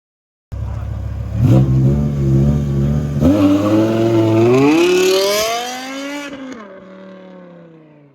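A BMW M6 engine revs up hard after a quiet start, climbing in pitch through several rising pulls into a loud, shrieking high-rpm wail before easing off and settling to a lower idle drone near the end.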